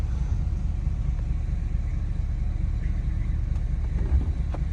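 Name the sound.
van driving on road, engine rumble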